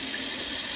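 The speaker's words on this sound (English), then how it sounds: "fill it up with cold water, just to make sure you've got very cold water" Cold tap water pours into a jug packed with ice, a steady, bright, hissing rush of filling liquid, close and unbroken.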